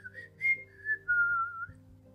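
Soft, gentle whistling from one person: a few short, quiet pitched notes that slide and waver, heard alone in a still room.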